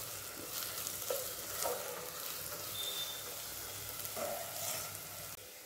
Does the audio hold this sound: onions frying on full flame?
yes